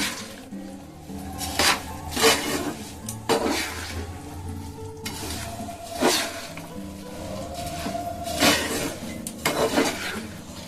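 Mihidana sweets being mixed with sugar syrup in a pan, producing repeated scraping, wet stirring and clinking of a spoon against metal in uneven bursts, close by, with no talk.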